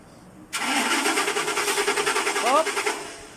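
Starter cranking on a 2006 Ford Expedition with a crank-but-no-start fault, a loud close rhythmic whirring churn that begins abruptly and runs for about three seconds without catching, then fades.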